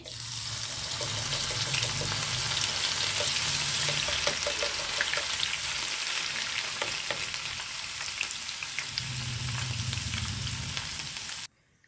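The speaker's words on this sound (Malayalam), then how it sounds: "ഇതിലേക്ക് ഞാൻ കുറച്ച് വെളുത്തുള്ളിയും കൂടെ ഒന്ന് മൊരിയിച്ചെടുത്ത്" Garlic frying in hot oil for a green plantain fry, giving a continuous close sizzle with scattered crackles and occasional stirring, with no one talking.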